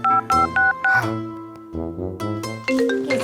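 A phone signals an incoming call with four quick, even electronic beeps followed by a melodic tonal ringtone, close and clear, with no speech over it.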